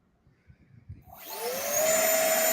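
An RC airplane engine spools up from quiet to three-quarter throttle, a rising high whine that settles into a loud, steady drone after faint thumps.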